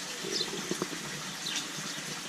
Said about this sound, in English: that's the shower there.